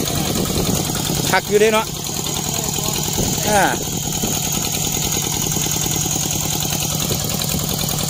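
An old ET engine on a walking tractor runs with a loud, steady, close chugging rhythm from start to finish, with someone speaking briefly over it.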